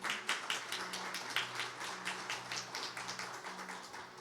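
A church congregation claps during a live worship service, a steady run of quick, rhythmic claps, fairly faint, over a low sustained hum of tones.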